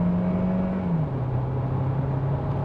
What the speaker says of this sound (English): Engine kicks in.